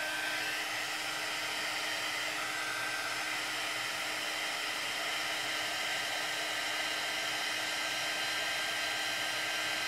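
Heat gun blowing continuously while melting Brutus Monroe embossing powder on wood, a steady close whirring hiss with no break.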